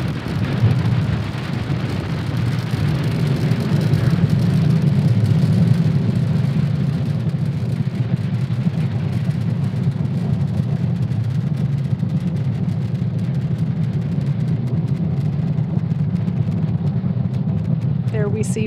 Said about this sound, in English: Falcon 9 has successfully lifted off from Cape Canaveral Space Force Station